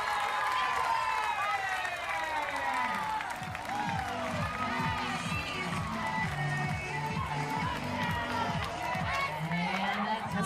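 Softball stadium crowd cheering and clapping after a grand slam at a pro game, a sustained roar of voices under an announcer talking over it throughout.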